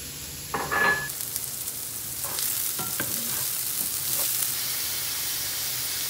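Butternut squash or carrots with onions hit a hot pan with a sharp loud sizzle and clatter, then settle into a steady frying hiss broken by a few stirring scrapes, close by, no voice.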